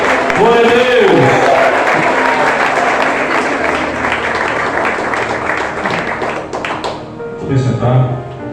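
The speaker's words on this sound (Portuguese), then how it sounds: "Vamos aplaudir o Senhor" A church congregation applauds at a Sunday service, producing a dense, sustained wash of clapping that fills the room, with a voice heard over it at the start, before the applause thins out.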